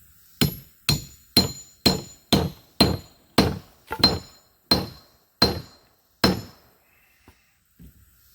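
A CPM 3V steel field knife is driven tip first into material in a destruction test, giving ten loud, sharp chopping impacts at a steady pace, each with a brief ringing tail, followed by a couple of faint knocks.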